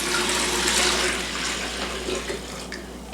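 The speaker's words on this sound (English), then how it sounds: "So let's pour this in here." Water poured into a pitcher to make tea, a steady splashing rush that fades slightly over three seconds and ends with a sharp knock, with no talk.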